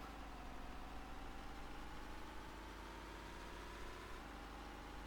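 A Russian-made vehicle idles in a post-apocalyptic survival video game, a steady low engine hum with a faint tonal whine, constant and unbroken, no voices.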